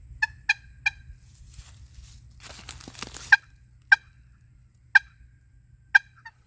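Crisp turkey clucks patted out on a wooden long box turkey call, single sharp notes spaced out with a short double at the start, clean with no rasp; a burst of rustling handling noise sits in the middle.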